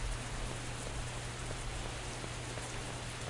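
Steady, dense rain hisses and patters continuously, with a low rumble underneath and no voices, in the video game Bad 2 Bad: Apocalypse.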